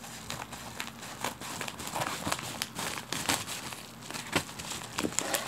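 Crinkling plastic and cardboard of Bandai Shin Godzilla toy packaging as it is cut open. Close, irregular rustles and crackles run throughout without speech.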